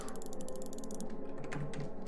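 Mechanical ratcheting clicks in a steady rapid train as key pieces are rotated in the video game Silence of the Sleep, close and even, with no talk.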